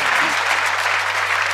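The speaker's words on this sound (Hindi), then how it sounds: "और आप रसवान सभी श्रोता यहाँ बैठे हुए, मेरे लिए आप तो बजा दो जरा तालियां।" An audience at a Hindi poetry stage show claps in dense, steady applause that fills the whole moment, loud and continuous, with no break.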